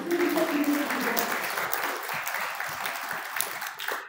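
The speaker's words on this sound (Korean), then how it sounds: "여러분 다시 한번 큰 박수 부탁드리겠습니다" A conference audience at a startup event applauds with steady, dense clapping that carries on for several seconds, fades slightly, then swells briefly near the end. A faint voice sits under the clapping at the start.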